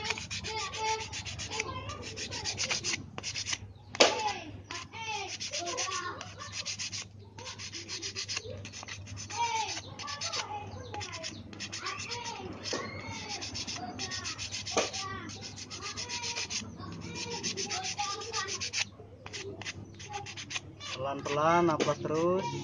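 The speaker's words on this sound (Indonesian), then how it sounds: "Pelan-pelan amplas terus supaya merata." Steady scratchy rubbing of sandpaper on a handmade wooden tobacco pipe, repeated back-and-forth strokes with brief pauses, close by and moderately loud, with occasional faint voices.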